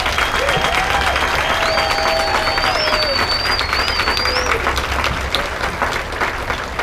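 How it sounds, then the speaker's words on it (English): Steady applause from a crowd at a Walmart Supercenter grand opening in Oklahoma City, a continuous even wash of hand claps held at moderate loudness throughout, with faint whistles and voices on top. "Let's honor all our veterans with a hand clap"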